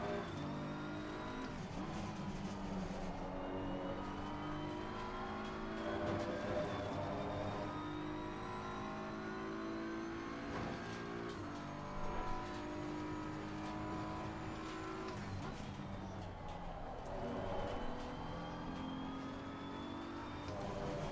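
A race car engine at full throttle in the video game Assetto Corsa Competizione at the Red Bull Ring, a steady loud drone with rising gear-by-gear pitch sweeps and brief dips at shifts, continuous throughout.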